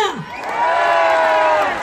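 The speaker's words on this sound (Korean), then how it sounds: "함성 소리 크게!" A crowd at a Korean outdoor festival shouts and cheers loudly for a pumba performer, a brief swelling roar of voices with whoops, close and dense.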